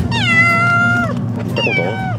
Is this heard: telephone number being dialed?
no